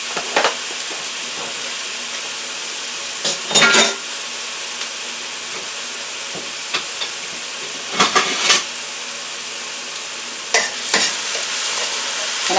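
Chopped onions sizzle steadily in olive oil in a frying pan, with a few sharp crackles and stirring clatters scattered throughout, close and fairly loud, no voices.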